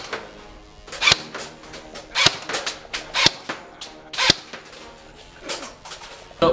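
Nuprol Delta Pioneer Defender airsoft AEG carbine fired single shots through a chronograph, about eight sharp close cracks at uneven one-second gaps, each with a brief mechanical clack and no talking.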